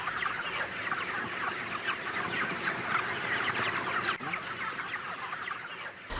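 A large flock of chickens on a poultry farm clucks and chatters continuously, a dense overlapping din of many birds close by, with no talk.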